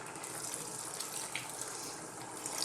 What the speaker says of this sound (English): So I'm going to add a touch of water to that.